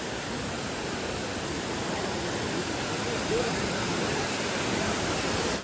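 Continuous roaring rush of falling water at Courtallam Waterfalls in Tenkasi, low October flow, loud and unbroken throughout, with faint voices murmuring beneath it.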